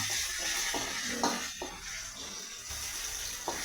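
Curry leaves drop into hot oil for a beetroot pickle and crackle in a steady sizzle, with brief stirring clatters and a soft pop or two near at hand.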